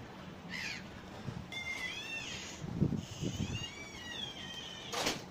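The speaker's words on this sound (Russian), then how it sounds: "Чайки кричат" Seagulls cry over the water during a rainy boat tour under the bridges of St Petersburg, several wavering, rising-and-falling calls at moderate distance over a steady background of rain and engine noise.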